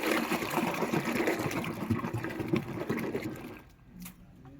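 Saree starch solution gets stirred by hand in a bucket of water, a busy close sloshing and swirling that fades out near the end, leaving brief faint splashes.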